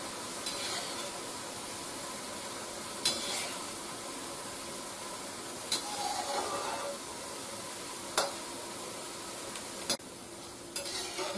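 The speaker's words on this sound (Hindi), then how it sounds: "बस हल्का सा हिला करके हम इसे हटा देंगे और फिर कलछी से इसको हम चला लेंगे" Boondi sizzles quietly in hot ghee while a ladle stirs it, a steady frying hiss broken every few seconds by soft scraping taps of metal against the pan.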